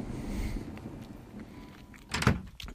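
A door opens in the Resident Evil HD video game. A quiet, hollow ambience gives way to a sharp heavy clunk and creak near the end, followed by a short fading tail.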